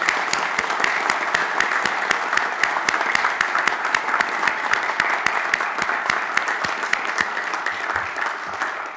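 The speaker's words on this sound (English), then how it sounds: "Give her a round of applause" A room at a board of commissioners meeting applauding a longtime staff member, with brisk, steady clapping from a modest crowd, individual claps distinct and evenly sustained.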